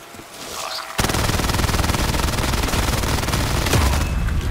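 Sustained rapid gunfire against zombies in Black Ops 3 custom zombies map Tranzit Bus Depot, a continuous loud automatic burst starting after a quiet second and running to the end, with a heavier boom near the finish.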